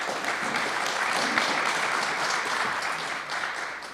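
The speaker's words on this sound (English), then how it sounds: "Can you give them a round of applause?" A conference audience applauds the panelists at a forum, with steady, dense clapping that holds at an even level from start to finish, with no talk over it.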